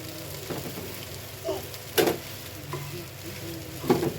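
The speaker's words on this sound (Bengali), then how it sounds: "এভাবে হালকা আছে আর কিছুক্ষণ রান্না করলেই হয়ে যাবে মজাদার ম্যাগি নুডলস।" Maggi noodles fry quietly in a pan, a soft continuous sizzle with a few brief stirring scrapes and clicks standing out now and then, no voices present.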